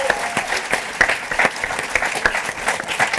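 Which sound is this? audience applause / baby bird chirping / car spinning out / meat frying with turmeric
audience applause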